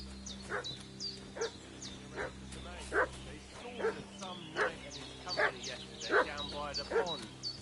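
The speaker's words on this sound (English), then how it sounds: "What's that dog making such a fuss about?" A dog in the medieval video game Kingdom Come: Deliverance II barks and yips repeatedly in short, evenly spaced bursts, fairly close, over a low steady background hum.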